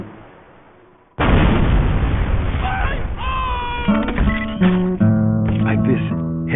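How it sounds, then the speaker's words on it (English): Tripod-mounted sentry gun in Team Fortress 2 opens fire after a quiet lead-in: a sudden, loud, sustained stream of rapid gunfire that continues to the end, with tonal musical notes layered over it. "Heavy caliber tripod mounted little old number designed by me."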